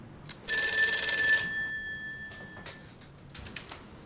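A telephone bell rings once in a loud, bright burst lasting about a second, then fades, followed by a few faint taps and knocks in a quiet room.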